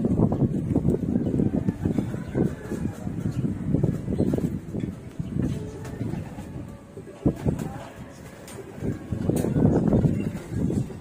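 Strong wind gusts buffet the microphone outdoors in rumbling, surging waves that rise and fall, with faint voices underneath.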